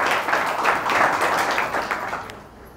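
A church congregation at Sunday worship claps together in a short burst of applause, moderately loud and fading out over a few seconds.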